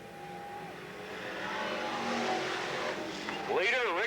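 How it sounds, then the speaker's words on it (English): Race cars on a dirt oval at Cottage Grove Speedway in a 1993 open competition show, engines roaring and droning past at mid distance, swelling louder as they approach, with an announcer's voice over a loudspeaker mixed in. "And back on the track, your leader, Rick Morin"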